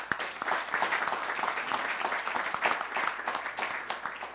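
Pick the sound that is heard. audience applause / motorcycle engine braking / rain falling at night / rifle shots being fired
audience applause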